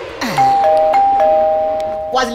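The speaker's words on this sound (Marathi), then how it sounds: "बेल वाजली. टिंग टॉंग. दारावरची बेल आहे ती." A two-tone doorbell chime rings at a house door, its clear sustained tones sounding near and loud, with voices talking around it.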